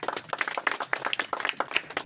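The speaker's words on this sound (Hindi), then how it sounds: "तो एक बार आप लोग जोरदार ताली बजाइए" A village rally crowd in Sitamarhi bursts into loud applause, dense overlapping claps in a steady rattling burst from start to finish.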